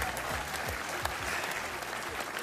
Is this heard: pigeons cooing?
no